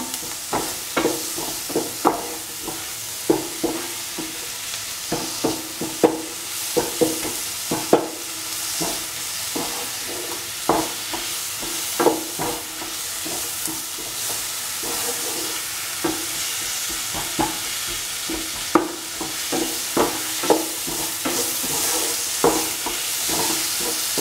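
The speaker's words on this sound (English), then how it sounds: "Keep on sorting and crushing so that the tomatoes and all the other ingredients are nicely incorporated." A spoon scrapes and knocks in a pan while tomatoes and other vegetable stew ingredients are stirred and crushed, repeated irregular clinks and taps over a faint steady sizzle.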